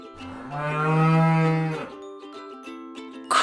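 Cows moo on a farm in one long, loud, close call with a rich harmonic tone, followed by a lower, quieter second moo and a brief sharper noise at the end.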